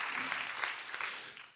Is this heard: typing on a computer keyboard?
no